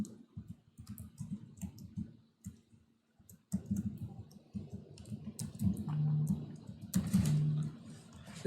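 Soft, irregular keystrokes on a computer keyboard while Java code is typed, coming in short scattered bursts with pauses, faint and close in a quiet room.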